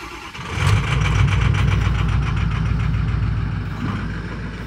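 A Ford F-250 Amarillo Edition truck engine runs steadily nearby with a low rumble, its transmission suspected of failing solenoids and slow to engage, the sound holding even with a slight rise at the start.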